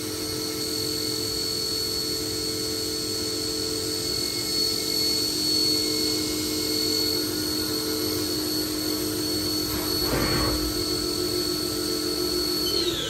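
A Haas VF5D/40 vertical machining center spindle spins at high speed, giving a steady high-pitched whine and hum that holds constant, with a brief mechanical rattle near the end.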